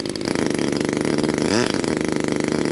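A Stinger 15cc gasoline RC plane engine running during break-in at a public park, a loud, steady buzzing drone with rapid pulsing firing and a brief pitch sweep midway as the needles are adjusted.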